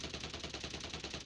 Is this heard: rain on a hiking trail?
no